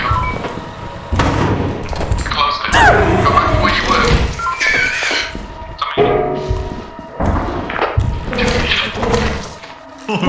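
Thumper monster from the game Lethal Company, heavy thudding and crashing impacts with scrambling movement over a dense, loud game soundscape, sustained for several seconds without clear talk.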